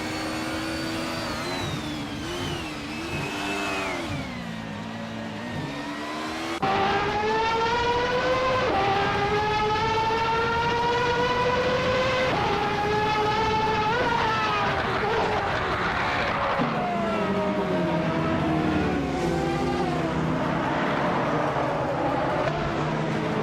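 Group C and retro DTM race cars, including a 1996 Alfa Romeo 155 TI V6, roar through a racing video game, their engines droning and shifting pitch as they climb through the gears, loud and continuous.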